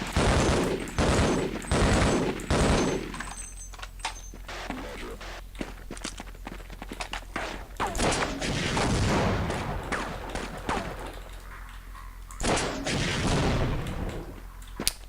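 Repeated bursts of video game gunfire sound in clustered volleys, loud and close, with footsteps and scattered impacts between the bursts.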